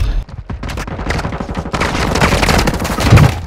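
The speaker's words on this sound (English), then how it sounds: "I don't know what you're shooting at." Rapid bursts of automatic gunfire crackle through a Warzone 2 match, sustained volleys stacking into a dense, loud fusillade over about three seconds with no talk.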